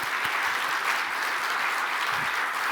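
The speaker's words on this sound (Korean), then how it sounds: "우리와 같은 우리 박수 한번 하겠습니다" A church congregation of young people, students and worshippers claps together in a broadband, steady round of applause that continues evenly throughout.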